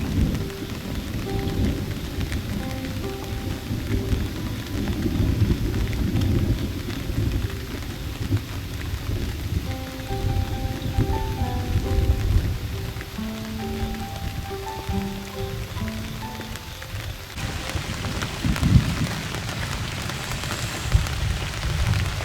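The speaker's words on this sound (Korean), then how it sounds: "너무 날씨가 흐리고 비가 오다 보니까" Steady rain pours down at a reservoir fishing spot under an overcast sky, a dense, continuous hiss of drops on surfaces with a few louder patters, heard alone without voices.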